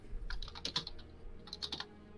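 Close computer keyboard typing comes in two short bursts of rapid clicking keys, separated by a brief pause, with no one speaking.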